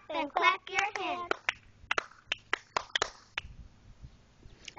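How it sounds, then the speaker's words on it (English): Children chant a cheer and clap their hands along to it, a few sharp claps punctuating their voices before scattered quieter taps close to the microphone. "stand right up and clap your hands"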